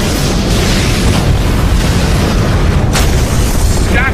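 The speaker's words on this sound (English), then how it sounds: "Massive secondary explosions." Massive secondary explosions in a sci-fi action film battle, a loud sustained rumbling roar filling the whole clip with no pauses or voices.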